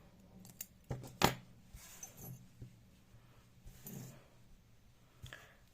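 Scissors snip crochet yarn while finishing a small crocheted horse keychain, giving one sharp metallic click near the middle, a few lighter clicks and rustles around it, close and fairly quiet.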